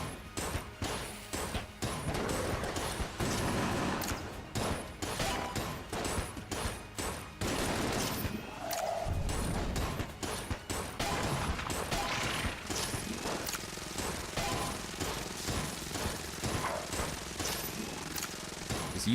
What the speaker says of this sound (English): Just using the gun till it's out of ammo